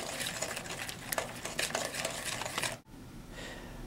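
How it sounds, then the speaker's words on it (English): Spoon stirring blondie batter in a bowl, a continuous scraping, sloshing swirl with a few sharper taps against the side, close and moderately loud, stopping near the end. "Continue to stir."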